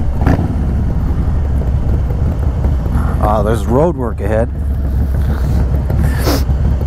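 Harley-Davidson Stage 2 motorcycle, either a Road Glide or a Low Rider ST, riding at speed, giving a steady loud engine and wind rumble throughout while people talk over it.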